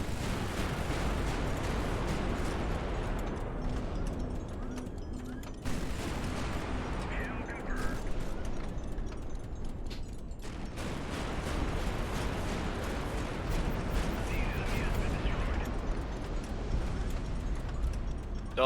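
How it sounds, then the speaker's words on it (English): Incoming missile-launcher fire from gladiator warships in the naval strategy game High Fleet, a dense, continuous roar of booming blasts and rumbling explosions that stays loud throughout. "I can't dodge their incoming fire"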